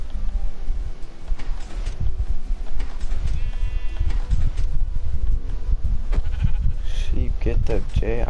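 Sheep bleating in the video game Minecraft, a few wavering bleats among busy game noise, with a person talking over much of it.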